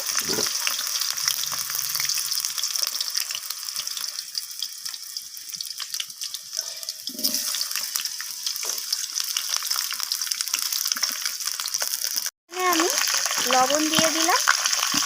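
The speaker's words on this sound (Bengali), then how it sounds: "এখানে কেটে রাখা আলুগুলোকে দিয়ে দিলাম তেলের মধ্যে তো আলুগুলোকে আমি লালচে করে ভেজে নেব" Cut potatoes frying in mustard oil in a pan, a steady close sizzle running throughout with occasional stirring clatter and a brief dropout near the end.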